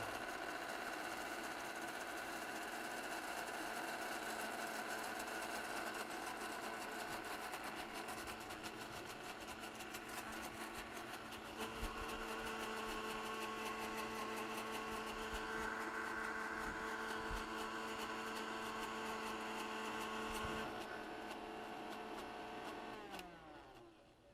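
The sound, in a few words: blender blending herb dressing ingredients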